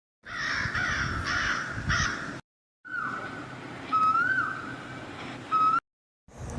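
A crow cawing in harsh, repeated calls at close range, first a rapid run of caws, then longer calls mixed with thin whistling tones, separated by short silences.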